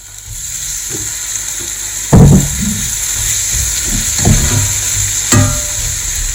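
Tomatoes added to garlic frying in a pan, a steady close sizzle with a few louder splashy hits as the food goes in and settles, no speech.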